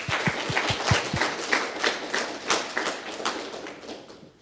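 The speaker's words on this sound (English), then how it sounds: "Let's welcome them with a big round of applause" An audience applauds to welcome panelists at a humanitarian law conference session, a few sharp, close claps at first, then a fuller, denser round of clapping that fades toward the end.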